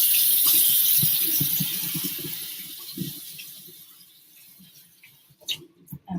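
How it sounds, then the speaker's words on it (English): Tap water runs into a sink as it is rinsed out, a steady hissing splash that slowly fades, ending with a few clunks and knocks. "again, rinse out the sink"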